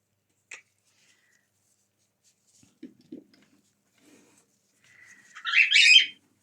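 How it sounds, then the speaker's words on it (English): Pet bird indoors giving a few faint isolated chirps, then a louder, closer burst of rapid chirping and squawking near the end, with near silence in between. "I've been sorry about the bird. It's his nap time and I'm clearly disturbing him."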